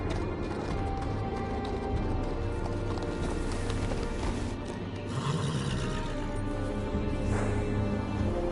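Horse hooves clip-clopping at a video game gate where recruits arrive, a steady rhythmic trot of fairly near hoofbeats set against a dense, constant game backdrop, with no voices.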